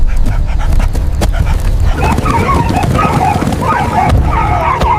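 African wild dogs chase prey across the savanna, giving high yips and whimpering cries over a constant low, scuffling rumble of running, loud and close throughout.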